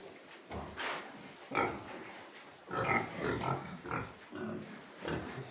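Farm pigs, including piglets about four months old, grunt and oink in a steady run of bursts, close and fairly loud, with no talk over them.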